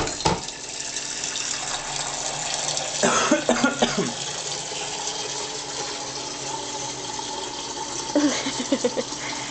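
Water runs steadily from a tap while a coffee cup is rinsed out, a continuous close splashing hiss broken by a few clattering knocks of the cup and a brief cough.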